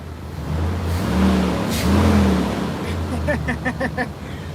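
A 1996 Dodge Dakota pickup engine runs steadily close by after starting, its low hum swelling slightly, with quick rattling ticks joining toward the end.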